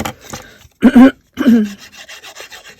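A paper card cut-out is trimmed around its edges in a few short, close bursts of scissor cutting and rustling paper, separated by brief pauses.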